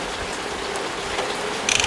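Hand vacuum pump being stroked to suck down a tire patch repair, giving a steady mechanical rattling hiss with a brief burst of clicking strokes near the end, no voices.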